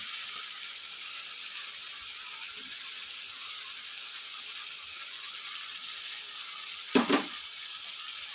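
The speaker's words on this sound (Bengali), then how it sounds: "আঁচটা মিডিয়াম করে নেব এবার আমি ক্যাপসিকামগুলোও দিয়ে নেব" Capsicum and spiced masala sizzle in a pan over medium heat while paneer is cooked, a steady close hiss broken by a brief clatter of stirring near the end.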